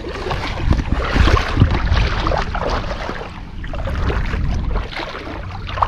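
Strong gusty wind buffeting the microphone, loud low rumbles that rise and ease, with faint water sounds beneath.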